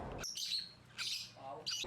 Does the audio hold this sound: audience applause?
no